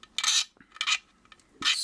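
Blade scraping ridges off a plastic Magewrath Throne model kit part: three short, close, raspy scraping strokes separated by brief pauses, loud and alone.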